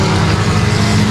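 Four-cylinder stock race cars at Timberline Speedway roar loudly and steadily with engines held at high revs, a close, continuous droning blur of motors and no talk.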